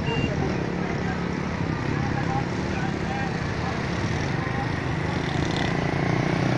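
Motorcycles rumble steadily in a religious procession for Eid Milad-un-Nabi passing near a university, a continuous dense engine drone mixed with crowd noise and no clear pauses.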